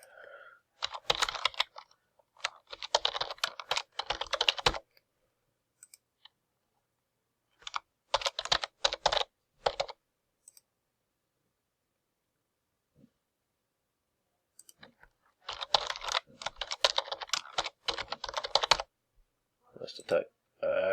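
Fast typing on a computer keyboard, bursts of rapid close-up key clicks separated by long silent pauses, loud and dry with no other sound.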